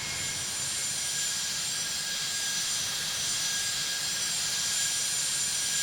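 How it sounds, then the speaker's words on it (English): A small Embraer Phenom business jet in Tower! Simulator 3 gives a steady, even whine with a low rumble beneath, running continuously and fairly loud, with no voices. "Here it is, little Embraer Phenom."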